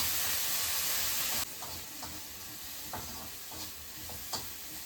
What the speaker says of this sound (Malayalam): ഇതിനെ നമുക്ക് ഇത്തിരി ഉപ്പൂടി ഇട്ട് വഴറ്റിയെടുക്കാം.